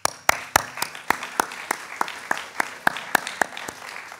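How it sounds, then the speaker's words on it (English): Conference attendees at the SaTML 2024 closing remarks give a round of applause. Only a few individual hand claps come through clearly, landing in a steady, evenly spaced rhythm that sounds close and crisp, with no one speaking. "So please give them a big round of applause."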